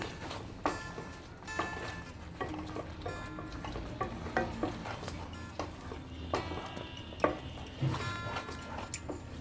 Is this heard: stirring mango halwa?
yes